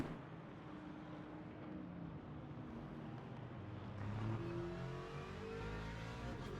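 GT3 race cars, including an Aston Martin and a Ferrari, roar around Portimão in the Le Mans Ultimate sim racing game. The engines drone and rev continuously at moderate volume and swell slightly toward the end.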